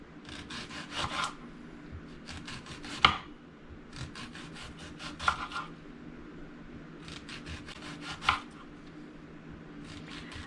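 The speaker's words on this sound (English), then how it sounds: "all I'm going to do is I'm going to slice my onions" A knife slices onions thinly on a wooden board, producing bursts of quick rhythmic cutting strokes with a few sharper knocks between pauses, close and fairly quiet, no speech.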